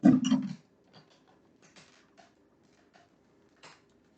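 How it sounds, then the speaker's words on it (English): A blender lid for celery juice is set on with a brief clattering knock at the start, followed by a few faint small taps and clicks in a quiet room. "I'm going to add the lid here."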